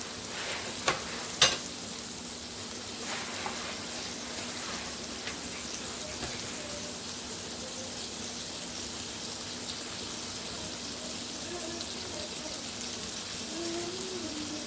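Spaghetti with soy and chili sauce sizzles steadily in a hot pan, a constant close frying hiss with a couple of sharp clicks from stirring near the start, no talking.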